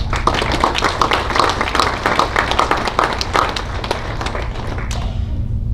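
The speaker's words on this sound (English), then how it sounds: "please join me in applauding our coaches." A room full of people at a high school athletics award ceremony claps loudly and steadily for the coaches, individual claps distinct, then the applause tapers off toward the end.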